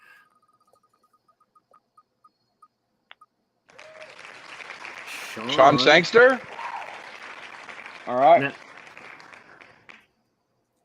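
Applause at a live Illusione cigar event sounds as a steady, moderately loud patter lasting several seconds, mixed with talking voices and brief sweeping tonal chirps.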